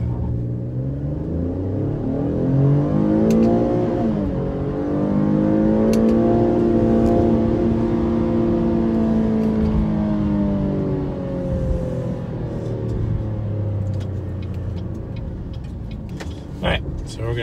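A 2019 Buick Enclave accelerates hard from a standstill, its engine drone climbing and rising through the gears inside the cabin while a person talks over it.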